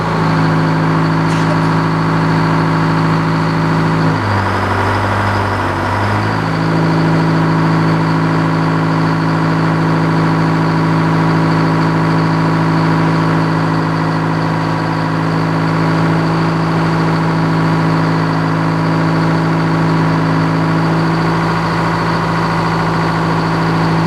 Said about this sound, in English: we're going to start the engine up and make some boards